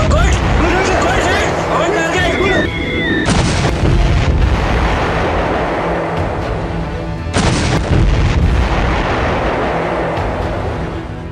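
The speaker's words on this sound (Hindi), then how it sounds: "भारतीय तोपों का मुंह खुला तो पाक आर्मी पर बारूद ही बारूद बरसने लगा।" Indian artillery guns fire on Pakistani army positions in a heavy barrage. Loud booming blasts come at about 3 and 7 seconds over continuous rumbling noise and crowd-like babble.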